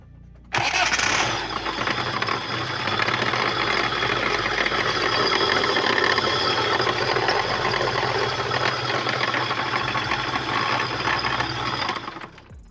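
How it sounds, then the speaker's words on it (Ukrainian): A Tavria car engine with a bad generator bearing starts and runs steadily at idle with a loud, rough, whining mechanical noise, then shuts off near the end. "Причина заміни це дуже шумить двигун. Зараз продемонструємо."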